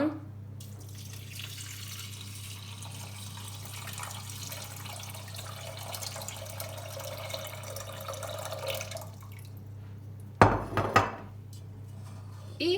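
Steady running water fills a pot of rinsed rice for about nine seconds, a continuous hiss, followed by a few clattering knocks near the end.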